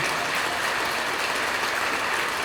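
Dense, steady applause from an audience at a Tamil speech honouring a guru, sustained clapping filling the hall without a break.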